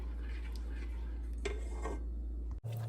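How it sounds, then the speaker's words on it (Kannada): Rice flour dough being stirred in a pan on medium heat, with soft scraping and occasional metallic clinks of a utensil against the pan over a low steady hum, ending with a sharp knock. "ಸೊ ಇದು ಗಟ್ಟಿಯಾಗೋ ತನಕ ಚೆನ್ನಾಗಿ ತಿರುಗಿಸ್ತಾ ಇರಬೇಕು"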